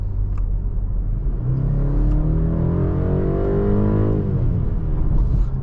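2024 BMW 530i accelerating in boost mode, heard from the cabin: a loud, continuous engine note climbs steadily in pitch, then eases off near the end, with a constant low rumble underneath and no voices.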